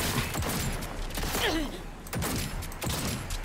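Sniper and other gunfire in Cyberpunk 2077 arrives as a few sharp shots among dense game noise, with someone speaking briefly over the action.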